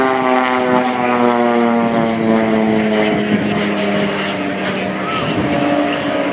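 Swiss Air Force Pilatus PC-7 display team aircraft crossing during an air show display, a loud steady propeller drone with sustained harmonic tones throughout, heard alongside a commentator's voice.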